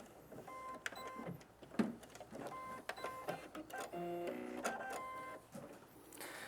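A sewing machine stitches a quilt Y-seam in short, whirring runs with mechanical clicks between stitches, close and fairly quiet.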